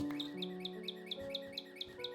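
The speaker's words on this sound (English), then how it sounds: "Those are birds." Bird calls in the video game Minecraft, a quick series of about nine repeated chirps in an even rhythm over a low musical drone, moderately faint.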